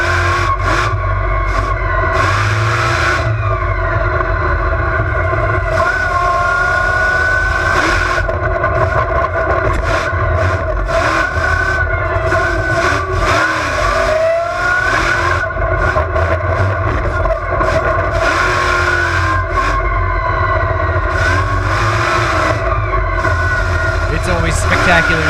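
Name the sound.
Bigfoot monster truck engine, onboard footage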